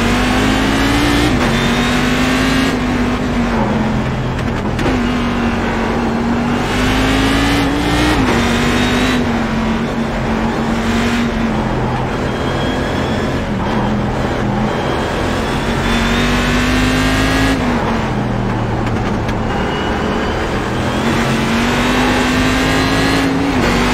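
Race car engines wail continuously in a Nordschleife racing game, loud and up close, rising and falling as the cars accelerate and shift through gears.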